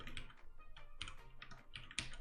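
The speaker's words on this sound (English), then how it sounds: "I don't really need to do this, but I've already started typing it." Fingers tap a computer keyboard in quick, uneven bursts of crisp clicks, close and fairly quiet, with no talking.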